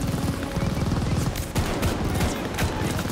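Dense, continuous gunfire in the World War II shooter Vanguard, rapid overlapping bursts and volleys filling the whole stretch loudly, with occasional sharper cracks on top.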